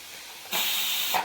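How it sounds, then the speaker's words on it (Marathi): A pressure cooker releases its steam with a sudden loud, steady hiss that starts partway through and holds to the end, close and unaccompanied. "कुकरची वाफ चालली आता"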